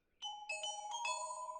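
Cartoon bell sound effect from Mickey Mouse Clubhouse: a bright chiming bell rings in several quick overlapping strikes that sustain and ring out, clear and alone.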